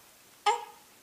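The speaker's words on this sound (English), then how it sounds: "Oh, that's a good burp." A baby's single short burp, a brief tonal squeak that rises sharply and fades within about a third of a second, close and alone against near silence.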